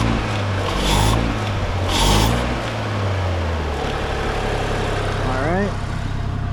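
An Audi B9 S4 engine during intake valve cleaning is blipped up twice, each rev swelling briefly over a steady idle before settling back, with a faint chirp near the end.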